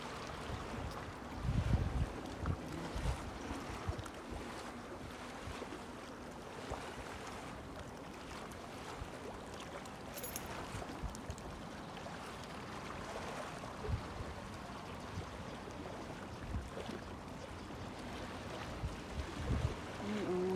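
Sea washing over a shallow rocky beach at Somerset, Bermuda, a steady outdoor wash of water and wind with occasional soft splashes.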